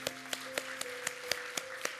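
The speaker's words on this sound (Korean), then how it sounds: "우리 하나님께 감사의 박수를 드리겠습니다" A church congregation claps in thanks during a Sunday service, sharp unified claps in a steady quick beat, about eight in a row, over a soft sustained musical tone.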